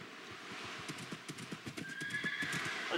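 A plate-armored horse gallops in a video game with quick, steady hoofbeats that build toward a whinny near the end, all heard close up.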